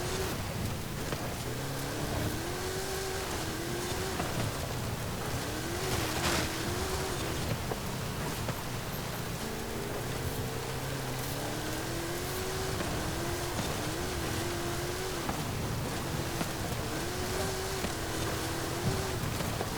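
A 1973 Pontiac Firebird Trans Am with the SD-455 engine, driven off-road in Forza Horizon, holds a steady, rising and falling engine drone for about twenty seconds, with repeated revving swells and road or rain-like noise beneath.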